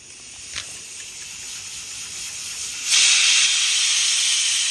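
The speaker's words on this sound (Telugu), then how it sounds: "ఈ లోపల ఈ విజిలొచ్చింది కదా!" Pressure cooker on a home kitchen stove letting off a loud, steady steam hiss that jumps sharply in strength partway through and holds, with no talking.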